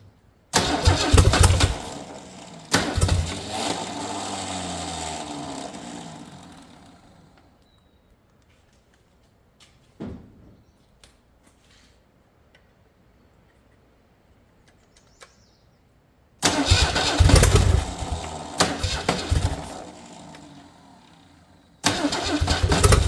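A Ford 300 inline six, formerly seized, cranks and fires, runs briefly, and then falls quiet. After a long stretch of near silence it cranks and catches again with a loud, rough burst, and a third start follows at the end.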